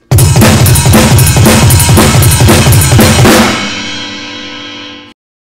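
Full drum kit driving the beat at full tempo, a dense rapid shuffle of kick, snare and cymbals played loud and close, ending with cymbals ringing out and fading alone.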